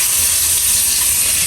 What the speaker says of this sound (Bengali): এবার আলুগুলো ভেজে নেবো একটু